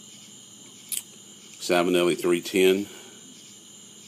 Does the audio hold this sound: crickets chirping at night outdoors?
yes